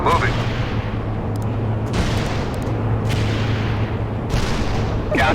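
Artillery fire in the World in Conflict video game, heard as repeated heavy booms and blasts over a steady low rumbling drone, loud and continuous for several seconds.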